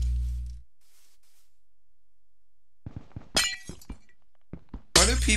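Glass blocks breaking in the Minecraft game Mineplex Clans, two sharp, bright shattering bursts with short clinks between them, loud and close, after a quiet stretch with a low thunk at the start.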